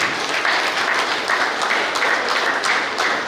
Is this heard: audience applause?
yes